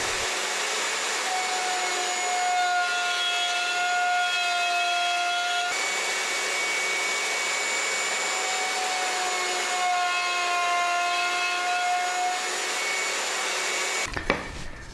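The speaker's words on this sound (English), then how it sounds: "I'm going to use my horizontal mortiser again" A horizontal mortiser cuts mortises in cherry wood, a loud, steady motor whine with sustained tonal hum running almost unbroken, close up, ending in a brief clatter, with no speech.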